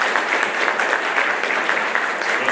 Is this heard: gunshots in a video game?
no